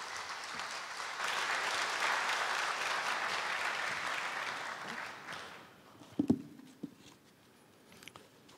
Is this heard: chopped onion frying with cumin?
no